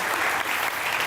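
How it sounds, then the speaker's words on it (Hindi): Sustained audience applause at a Pakistani comedy chat show, dense steady clapping filling the whole short stretch with no voices on top. "बहुत तालियां होनी चाहिए।"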